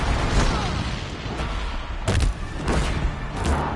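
Grenade explosions in the video game Horizon Zero Dawn go off as loud booming blasts, with a sharp pair of close detonations and rumbling bursts over a dense, noisy game soundscape.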